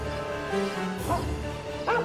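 Toby the dog barking and yipping in short bursts, close by, in a Sherlock Holmes video game scene, with a faint musical background.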